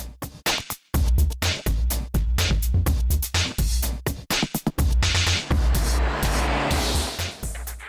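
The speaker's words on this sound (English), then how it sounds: "This is a Mazda MX-5." A Mazda MX-5 open-top roadster drives past with a loud, steady engine and road roar, broken by brief dropouts and swells, with heavy low rumble and wind-like hiss toward the end; no talking.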